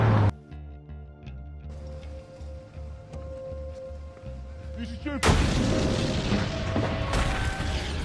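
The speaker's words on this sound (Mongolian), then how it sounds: "Тэр хашинд хүчтэй дэлбэрэлт үүснээр хэсэгтээ юу болсон үл ойлгогдно" In The Foreigner, a powerful explosion bursts near a parked car: a low rumbling drone and thuds give way to a sudden loud, broadband roar that lingers as crackling debris and noise.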